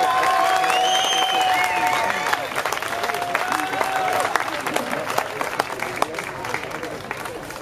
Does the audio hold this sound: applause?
yes